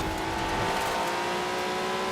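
Alfa Romeo 155 Q4 engine in Forza Horizon 4, a steady loud drone with strong tonal harmonics, holding near and continuous for about two seconds without any talking.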